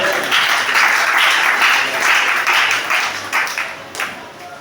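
A church congregation breaks into loud sustained applause at a sermon, many hands clapping together close and dense for several seconds before thinning toward the end.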